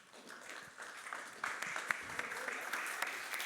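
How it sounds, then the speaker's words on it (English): A room audience applauds a conference panel on sustainability data, blockchain and AI. The clapping is steady and fairly quiet, swelling a little partway through, with faint murmuring mixed in. "Let's give them a round of applause."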